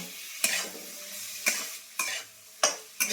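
Paneer fries in a pan, a low sizzle broken by five sharp spatula scrapes and clinks against the metal, close and fairly quiet, no talking.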